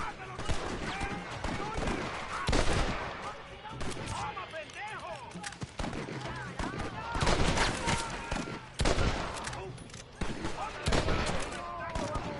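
Old West gunfire in a tower area of Red Dead Redemption on PS5, several shots cracking in scattered bursts with game sounds around them and someone talking over parts of it.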